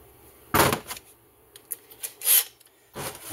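Wrench work removes carburetor bolts on a vintage McCulloch 10-10 chainsaw: a few close, brief scraping and rubbing bursts with quiet gaps between them.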